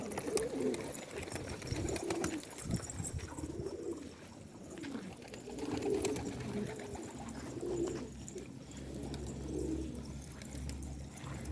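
Young Istanbul tumbler pigeons coo repeatedly at close range, a series of low rolling burbles spaced every second or so over a quiet background.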